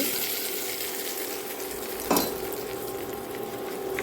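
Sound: garlic chutney sizzling in a pan with popped mustard seeds

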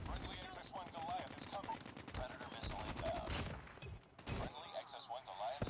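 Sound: gunfire in Call of Duty Nuketown, video game

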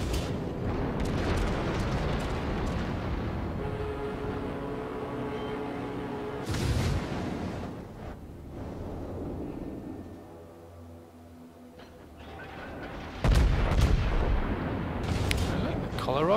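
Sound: naval gunfire and shell explosions from a warship video game

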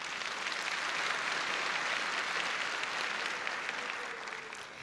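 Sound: symposium audience applauding in answer to a question

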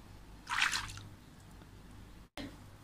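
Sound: mixing shampoo into warm water

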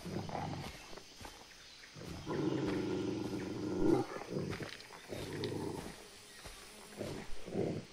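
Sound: wild animal growling or roaring in the video game Far Cry 3

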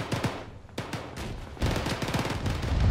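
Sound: gunshot in the video game Arma (ShackTac)

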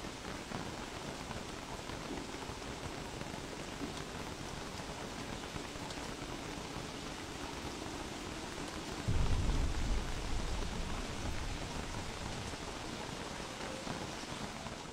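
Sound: rain in a video game

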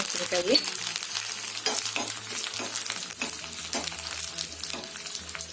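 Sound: spices frying in ghee for bisibele bath

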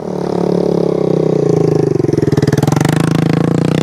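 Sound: motorcycle engine

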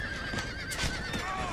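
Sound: horses neighing

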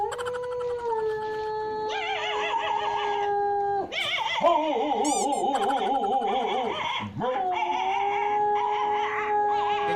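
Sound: howling

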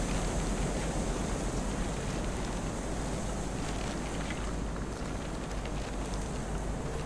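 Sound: wind in the video game Kholat

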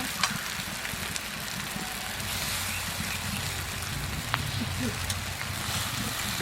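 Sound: pre-boiled chow noodles added to frying pan, prawn chow mein

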